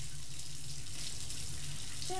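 Shower water running in the video game Press X Not To Die, a steady hiss of spraying water under a low hum, with a voice heard briefly over it.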